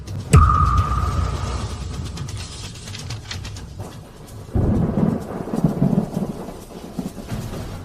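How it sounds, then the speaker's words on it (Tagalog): A sharp crack of thunder opens into steady heavy rain and rumbling wind as a typhoon's eyewall hits a boat at sea, swelling again into a roaring storm surge midway. "Sam, ito na ang eyewall ng bagyo."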